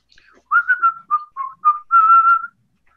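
A person whistles a short melodic tune of several bright notes and slides, fairly close and alone, with brief gaps between phrases and a longer held note at the end.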